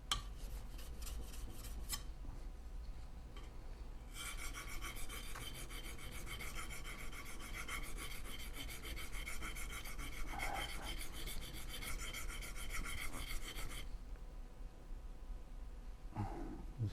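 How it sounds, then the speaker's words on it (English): A curved hand plane iron being sharpened with circular strokes on a stone, giving a steady, close rasping scrape that runs almost continuously, with brief pauses and a louder stretch in the middle. "I'm making that weird circular motion while sharpening it, because I have to sharpen the curve"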